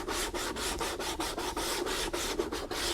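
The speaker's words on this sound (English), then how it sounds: "I will sand all of these edges to remove all of the glue" Rapid back-and-forth rasping of 200–400 grit wet-dry sandpaper along glued edges of a saddlebag project, scrubbing off squeezed-out glue in a steady rhythm of close, even strokes with no talking.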